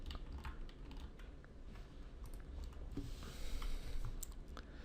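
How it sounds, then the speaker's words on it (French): Arrow keys pressed on a computer keyboard while editing in After Effects, a quick series of soft close clicks and taps at an irregular pace, fairly quiet under a low background hiss. "on va prendre les flèches sur notre clavier"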